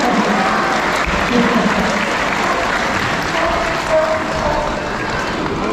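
An audience applauds at a sea lion show at Knowsley Safari Park, with dense, sustained clapping from a large crowd that stays fairly loud and even for several seconds.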